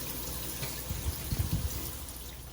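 Water is sprayed onto a glass shower door, making a steady close hiss with a few soft, low splashy bumps in the middle; no one talks.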